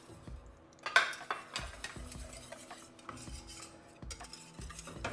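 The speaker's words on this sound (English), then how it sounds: "Add it in, whisk it up." A whisk scrapes and taps around a pan as Parmesan and garlic go into a creamy pasta sauce, giving a few sharp metallic clinks over a quieter steady stirring.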